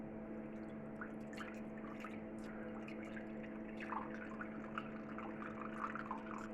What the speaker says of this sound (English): We'll put 200 grams of water in here